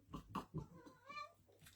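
A cat named Cobweb gives a few short, close meows in quick succession, with one drawn-out, wavering cry near the end.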